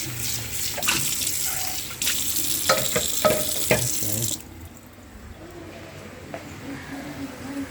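Water runs from a kitchen sink tap as vegetable containers are rinsed during chicken noodle soup cooking, a steady hiss with a few knocks and splashes, then the flow cuts off and only quiet kitchen background remains.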